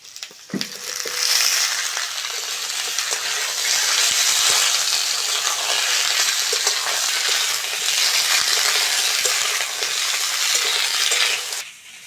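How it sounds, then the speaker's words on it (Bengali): Potatoes and flat beans fry in a hot pan for a veg curry, a loud, steady broadband sizzle that starts abruptly, holds nearly unchanged for about eleven seconds, then cuts off, with a few faint stirring clicks and no talking. "সিম আলু ভালো করে ভেজে নিয়েছি"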